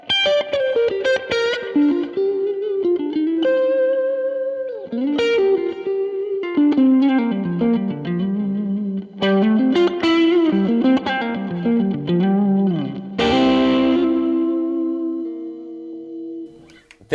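Overdriven electric guitar through a Tube Screamer into a Princeton amp with vibe reverb and a bit of delay, playing a melodic line with bends and sustained notes, bathed in reverb and a warbling modulation, continuous and loud.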